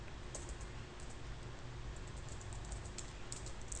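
Quiet keyboard typing while writing code for a Rails view, scattered soft key clicks over a low steady room hum.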